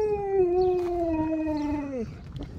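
A dog indoors gives one long, sustained, close howl that holds steady for about two seconds before sliding downward and breaking off, with no talking.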